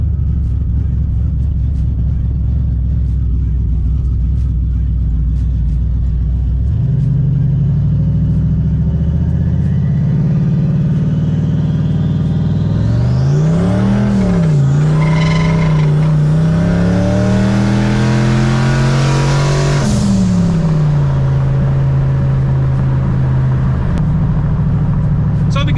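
A Ford Mustang SN95 with a transmission that will not shift right idles steadily, then is foot-braked and revved to nearly 3000 rpm in a loud, climbing engine roar that holds and drops back to idle, with some talk over it.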